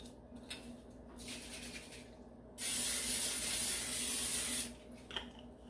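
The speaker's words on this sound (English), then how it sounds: "I am going to spray the pan with the cooking spray" A short burst of olive oil cooking spray hisses steadily onto a pan for about two seconds, close by, with quieter background rustling before and after.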